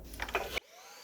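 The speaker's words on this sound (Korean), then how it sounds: "그래서 청소기만 써도 괜찮거든요" A vacuum cleaner works the gaps in a living room, its whining motor faint and brief before cutting off abruptly, leaving a low residual hum.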